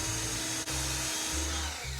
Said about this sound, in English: we're just gonna go ahead and drill right in here